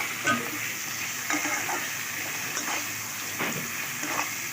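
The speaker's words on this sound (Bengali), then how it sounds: "তারপরে টমেটো কিছু দিয়ে দিলাম এবার এটাকে ভালোভাবে কষিয়ে নেব" Chicken and tomatoes sautéing in a pan, a steady close frying hiss broken by irregular scraping stir strokes, with no talking.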